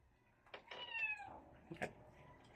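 Pet cats meow at feeding time, two or three drawn-out rising and falling meows close by and fairly quiet, with soft background noise between them.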